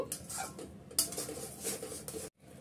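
A spoon scraping and tapping in a pan as grated coconut is stirred for date laddu, producing soft, irregular clinks and scrapes close by with a brief louder knock and a short pause near the end.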